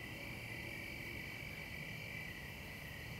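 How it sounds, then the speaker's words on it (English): Dense night chorus of crickets chirping steadily with frogs croaking underneath, a continuous outdoor wall of insect and amphibian calls under a starry sky, with no voices. "You can see loads of stars and you hear all the crickets and the frogs."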